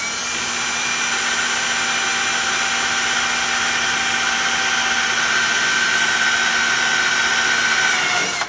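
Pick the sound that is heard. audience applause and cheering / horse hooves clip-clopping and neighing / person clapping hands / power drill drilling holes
power drill drilling holes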